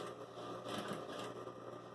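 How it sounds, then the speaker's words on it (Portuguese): A domestic sewing machine runs quietly and slowly through denim near the fabric edge, a faint, steady low-speed whir with no one talking. "Bem na beiradinha a gente vai costurando devagarinho, porque na máquina de doméstica a agulha pode quebrar."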